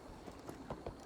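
A horse's hooves clop in Assassin's Creed Valhalla, several soft, quick hoofbeats in an uneven rhythm, faint over a quiet ambient background.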